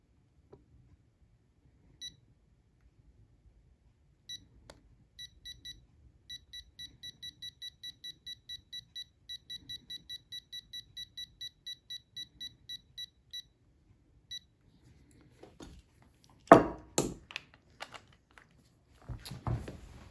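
A torque tool set to 22 foot-pounds gives a few single beeps, then a steady run of quick, evenly spaced beeps in a quiet room, followed by clicks and clunks of work.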